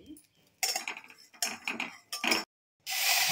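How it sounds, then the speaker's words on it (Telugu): Vermicelli being fried in a pan for payasam: short bursts of stirring and scraping with a utensil, separated by quiet gaps, ending in a steady sizzling hiss. "సేమియా అలా వేయించుకోవాలి."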